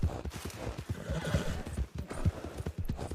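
Galloping hooves drum quickly and loudly at close range in a Wild West role-play game, joined by a clear horse neigh, all without any talk over them.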